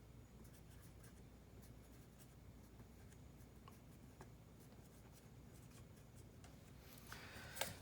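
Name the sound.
marker drawing a vector on a board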